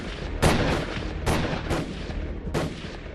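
Three loud gunshots fired at a car in Subhash Nagar, Delhi, ring out about a second apart, each a sharp blast followed by a brief echoing tail.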